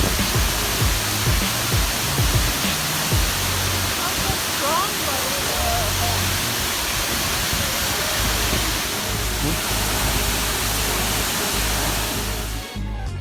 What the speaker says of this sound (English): Waterfall, no?